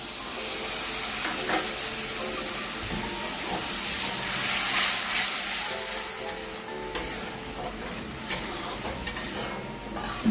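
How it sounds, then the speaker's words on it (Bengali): Water from rinsing the spice bowl hits a hot spice mixture for an okra curry, a loud steamy hiss that settles into a steady sizzle with occasional stirring knocks. "মশলার বাটি ধোয়া একটু জল দিয়ে দেবো।"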